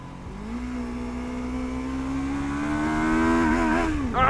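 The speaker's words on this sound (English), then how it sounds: "it's that rev limiter!" A Lexmoto LXR380 motorcycle engine revs up to its limiter, a loud close rising drone that climbs steadily, wavers and is cut short near the end.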